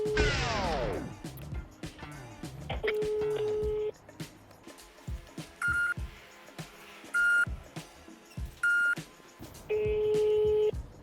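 Phone tones while calling a housing complex sales office: a short burst of dialing beeps, then repeated steady ringback tones with gaps between, interspersed with faint clicks and background noise.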